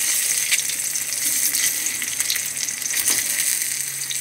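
Eggs frying one by one in oil left over from frying potatoes, a continuous close hiss and crackle of hot oil with faint stirring scrapes and small pops, no voices.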